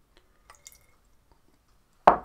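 Water lands on an unwaxed wooden bagpipe piece: a few faint drips and small wet taps sound close by, then a sudden louder splash of poured water near the end.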